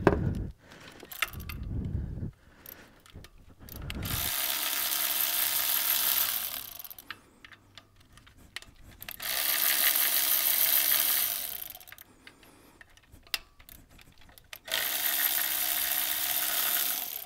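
Power tool bursts back out 10 mm bolts from the intake manifold crossover on a GM 6.5L diesel engine, three sustained whirring runs of a few seconds each, separated by quieter clinks and handling noises, close up with no talk.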